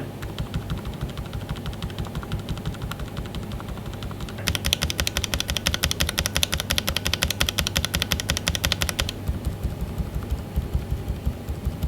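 Rapid clacking of linear mechanical keyboard switches, AKKO Fairy or Penguin silent switches, pressed hard over a low background hum, growing denser and louder in the middle before easing off.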